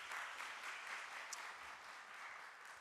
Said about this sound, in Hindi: एक बार इन सभी के लिए ज़ोरदार तालियां हो जाएं